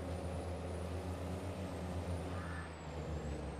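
A loud truck with air brakes in Farming Simulator 22 drones on, a low steady engine rumble holding throughout, with a faint whistling tone above it and a brief hiss of air near the end.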